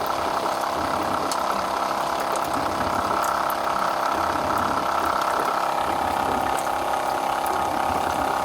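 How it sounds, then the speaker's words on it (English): A boat's fresh water pump runs steadily as it pushes pink antifreeze through the onboard plumbing during winterizing, a constant mechanical hum with a faint watery whir, close and continuous, no talk. "You could just leave that valve open, let the pump do its thing"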